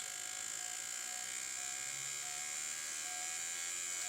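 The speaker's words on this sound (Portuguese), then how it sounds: "Observe que a máquina vai aumentar a rotação sozinha" A Thinckar IMT 602 injector cleaning machine runs with a steady, close electric motor whine, holding a constant high hum with only slight shifts as it speeds up and slows down.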